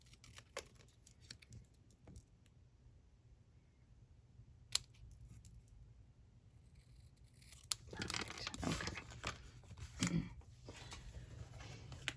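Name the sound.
snips cutting cardstock for card making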